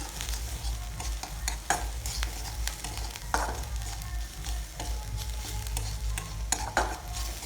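Onions and chilies frying in a pan for egg bhurji, a steady sizzle with the scrape and clack of a spatula stirring at irregular intervals, close and without talk.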